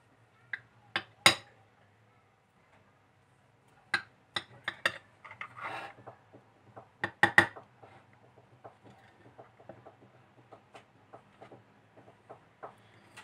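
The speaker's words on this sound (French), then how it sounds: "Maintenant je vais venir découper une petite part." A knife cuts a small slice of instant coffee cake, giving sparse, close clinks and taps of the blade against a plate, separated by quiet gaps, with no talking.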